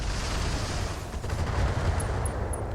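Mech weapons fire in the modded tactical game Battletech, a continuous dense rumble of impacts and rattling shots with no clear gaps and no talk.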